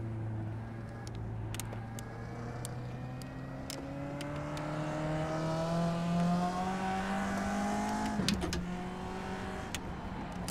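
A race car engine in a racing video game, driven with Logitech pedals, holding a steady droning tone that climbs slowly in pitch under acceleration, with a few clicks and a brief shift-like burst near the end.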